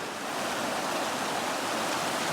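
River water rushing through White Rock Canyon in late September, a steady, fairly loud broadband wash with no breaks, flow reduced from its peak but still strong, with no voices over it.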